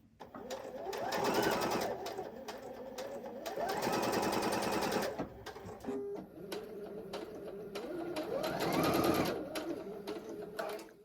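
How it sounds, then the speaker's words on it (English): A sewing machine stitches quilt squares along a drawn line in three rapid bursts of rhythmic needle chatter, close and clear, with brief pauses and quiet handling between runs. "And then I'm just going to sew right on that line that I drew earlier."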